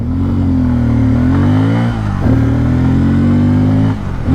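A motorcycle engine, either a 2024 Honda CB300F or a Bajaj Pulsar N250, revs up loudly in first gear, rising in pitch, dipping briefly at a shift, then climbing again close to the rider.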